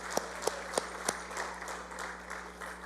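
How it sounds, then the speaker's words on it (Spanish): A brief round of applause from a church congregation during a Spanish-language sermon service, opening with a few distinct claps and settling into a soft, distant patter. "un aplauso a Dios"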